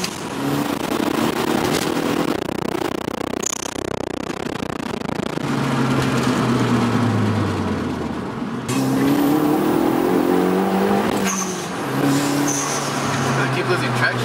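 A Hyundai Veloster with an upgraded intercooler accelerating hard and losing traction, loud engine revs rising through gears with tire noise, heard from inside the car.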